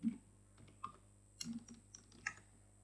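Sparse, quiet keystrokes on a computer keyboard while HTML code is typed, a handful of separate clicks and short clusters spread over a few seconds against a faint electrical hum.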